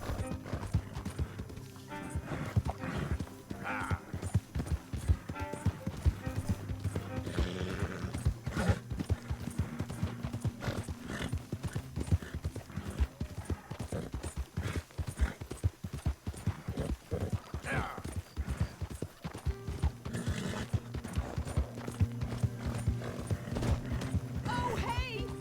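Horse hooves clip-clop steadily in the Red Dead Redemption 2 video game, a continuous rhythmic trot with an occasional whinny, running under music and spoken voices throughout.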